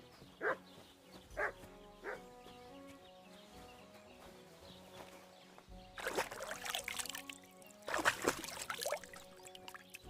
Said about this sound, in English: You barking at, doggy?